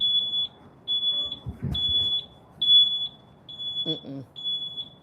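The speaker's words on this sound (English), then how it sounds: "The beeping is helping me." An electronic alarm chirps in a steady series of short, high beeps, repeating about every half second to second, while people talk nearby.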